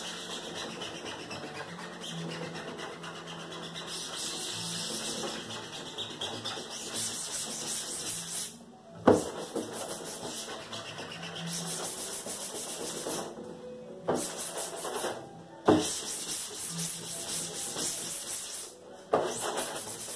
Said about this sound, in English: Just gently scrub that up, spray that on there.